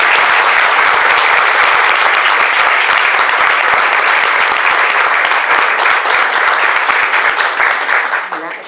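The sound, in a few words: audience applause welcoming the authors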